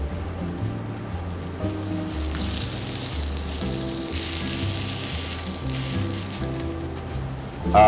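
A beef burger patty sizzles on a hot chromium griddle plate, a steady frying hiss running throughout with music playing underneath.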